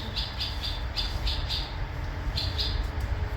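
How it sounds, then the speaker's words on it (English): Small birds flying in and out of a wooden birdhouse give quick bursts of high chirps in uneven clusters over a steady outdoor rush of wind. "Some birds in here? They keep flying in and out"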